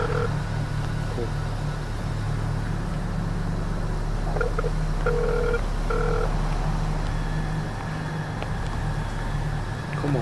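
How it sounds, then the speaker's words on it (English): A phone ringback tone repeats in short beeping pulses while a call waits to be answered, heard inside a car over a steady low engine rumble. "Come on, pick up the phone."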